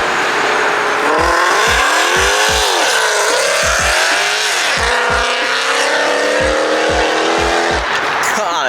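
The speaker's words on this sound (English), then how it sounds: "that Mercedes AMG was loud" A Mercedes AMG roars away from a car meet with a loud, continuous engine note, climbing through several rapid upshifts with sharp pops between gears, close by and dominating the scene.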